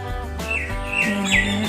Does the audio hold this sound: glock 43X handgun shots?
no